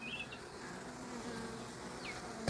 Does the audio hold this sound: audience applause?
no